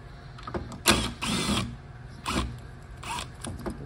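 Solenoids being unbolted and pulled from a Toyota AB60E automatic transmission valve body, giving a few short metallic clicks and scraping handling noises close up, with no talk.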